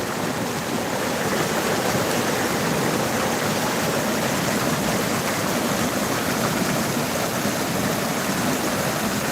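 A mountain stream in Jirisan's Daeseong valley near Uisin village rushes steadily nearby, a dense, constant broadband roar of flowing water with no pauses or voices.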